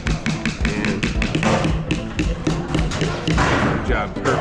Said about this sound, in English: You take a hammer and here, hold the hammer like this.